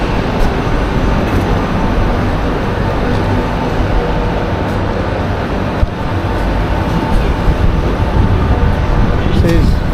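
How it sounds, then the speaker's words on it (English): Steady low rumble and hum inside a first-class TGV carriage travelling to Paris, continuous throughout, with faint murmurs of voices and occasional soft clicks. "this is a train going to Paris, TGV train, traveling first class"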